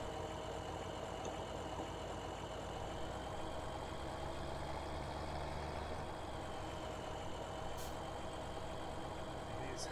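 A tractor engine idles in the Farming Simulator game, a steady, faint drone with constant tones that stays even throughout and has no speech.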